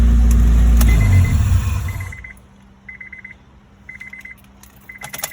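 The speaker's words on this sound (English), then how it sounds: "let's shut the car off." The loud running engine of a 2002 Acura RSX Type S with an idle surging fault cuts off abruptly, leaving near silence broken by a repeating electronic chime beeping in short bursts.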